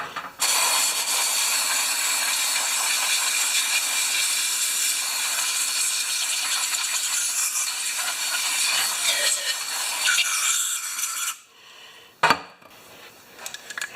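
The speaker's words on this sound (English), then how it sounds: "let me put my straw back in my carb cleaner" A can of carburetor cleaner sprays through a straw into the carburetor of a Craftsman 7.75 HP self-propelled mower, a loud continuous hiss lasting about eleven seconds, then a short quiet gap and a brief final burst.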